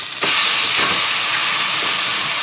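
About ten cloves of minced garlic hitting hot oil in a pot, a sudden loud hiss that swells into a steady, dense sizzle and stays strong to the end, with no talking.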